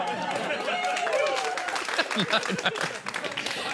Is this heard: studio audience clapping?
yes